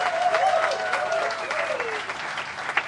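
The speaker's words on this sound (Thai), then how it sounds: "ขอเสียงปรบมือดังๆให้รุ่นบุกเบิก" Loud crowd applause at a rock pub's 29th anniversary show in Thailand, steady clapping with voices and a tonal call rising over it.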